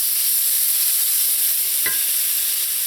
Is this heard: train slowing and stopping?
no